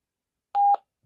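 The flashlight button on a Belfone BF-OG200 FRS radio sounds one short, clean electronic confirmation beep, about a quarter second long, alone in otherwise silent surroundings.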